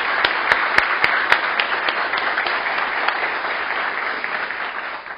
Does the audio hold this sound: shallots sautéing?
no